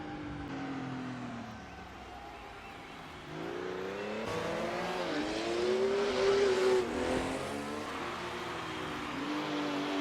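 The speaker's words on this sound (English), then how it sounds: "The master tactician shifts gears, expertly navigating past both Stirling Moss and Luigi Musso" 1956 Formula One cars racing at the Argentine Grand Prix, engines droning and rising in pitch as a car accelerates and passes, a loud swelling whine near the middle before fading back.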